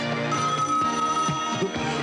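A voice imitates a ringing telephone with a sustained, buzzy warbling tone that pulses briefly and stays loud and close for about two seconds.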